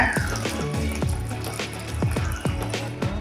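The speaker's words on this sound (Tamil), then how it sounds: "இப்போ ரவா தோசைக்கு நீங்கள் எந்த அளவுக்கு தண்ணி ஊற்றி கரைப்பீங்களோ அந்த அளவுக்கு தண்ணி ஊற்றி கரைச்சிக்கோங்க" Water poured into rava dosa batter in a bowl, a continuous splashing trickle with repeated gurgling drops and glugs, moderately close and heard alone without talk.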